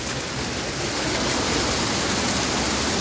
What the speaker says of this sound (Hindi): ये देखें, ऊपर से पानी आ रहा है। ये देखें, इधर से पानी बह रहा है